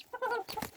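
A two-month-old female Serama, the world's smallest chicken breed, gives a few soft, close clucks in quick succession, with no talking.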